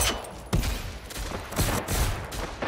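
Enemy gunfire in Generation Zero, a series of sharp bursts and crackling shots in uneven clusters, moderately loud against a rough background, with no talk over it.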